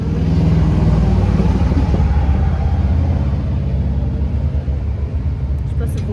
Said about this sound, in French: Je sais pas si vous venez d'entendre les motos qui viennent de passer